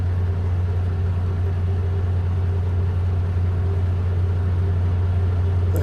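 Dump truck engine pulling away after dumping a load, a steady deep rumbling drone held close and loud throughout with no talk.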